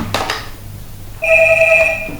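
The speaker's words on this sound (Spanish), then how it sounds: "va a empezar a sonar el teléfono" A telephone rings indoors with a steady electronic two-tone ring that starts partway through and holds loud and close for under a second before cutting off, after a couple of brief clicks.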